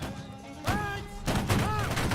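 A massed infantry volley in the Civil War strategy game Grand Tactician: The Civil War, with bursts of rifle fire crackling at two moments amid a busy battlefield din, under shouted voices.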